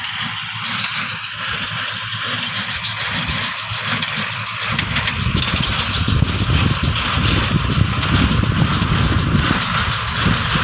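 A straw baler's engine runs steadily in a rice field, a loud continuous drone that grows rougher and heavier with chugging low rumble about halfway through, with no talk.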